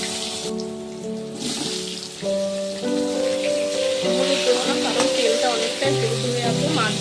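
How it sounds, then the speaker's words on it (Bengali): Hot oil sizzles and crackles steadily as potatoes fry in a pan, with faint background music. "এবার আমি আলু কপিটা ভেজে নিই আলুগুলো দিয়ে দিলাম"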